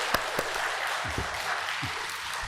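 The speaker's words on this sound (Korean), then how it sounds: "감사의 박수를 한번 드리겠습니다." A church congregation claps in thanks, and the applause comes through as a steady wash of many hands with a few louder individual claps standing out.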